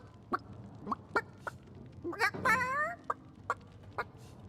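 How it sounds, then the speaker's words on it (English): A rooster in Divinity: Original Sin clucks in short separate bursts, then gives a louder drawn-out squawk midway, followed by a few more sharp clucks, fairly near and clear over quiet game ambience. "Don't let that rooster escape!"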